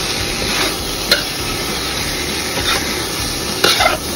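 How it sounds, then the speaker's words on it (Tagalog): Menudo stew being stirred in a pan, with a constant sizzling bed broken by a few sharp scrapes and clinks of the spoon against the pan, no one talking. "So yan, haluin lang natin"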